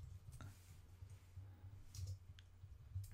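A computer mouse clicks a few times, sharp faint isolated taps spaced irregularly against a quiet low hum during Photoshop work.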